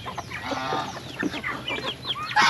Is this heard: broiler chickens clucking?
yes